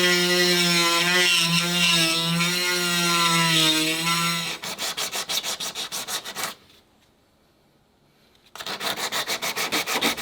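Damaged fiberglass on an iKamper roof tent being cut out: a steady whining tone, then a run of rhythmic rasping strokes, a short pause, and the rasping strokes starting again close by.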